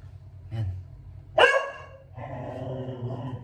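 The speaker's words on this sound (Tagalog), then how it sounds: "Pasensya na kayo sa mga aso ko." Several dogs barking at a Taiwan-bird breeder's place, a sharp loud burst in the middle followed by a rougher, sustained bark or growl over a steady low hum.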